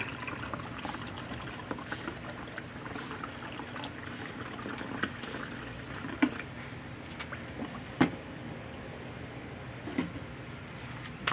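Water is poured into a water dispenser whose faucet will not drip, a continuous gurgling splash with small knocks and bumps at intervals, close and moderately loud.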